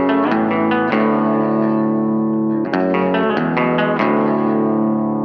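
A loud, distorted electric guitar riff with some reverb, picked in quick repeated phrases with a short pause midway, played alone and close.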